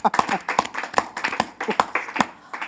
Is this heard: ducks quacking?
no